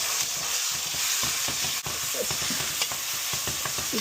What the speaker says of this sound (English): I'm gonna put my ground turkey in now because the oil is heated, fully heated